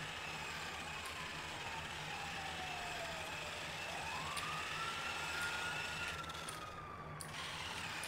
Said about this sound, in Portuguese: Eu tô ouvindo ambulância, ou será que é polícia?